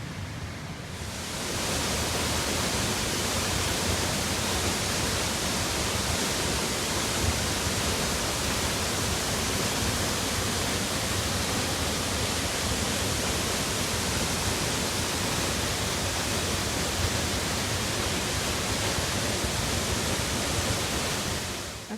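Savage Falls waterfall rushes in a dense, steady roar of falling water, constant and enveloping for over twenty seconds with no voices.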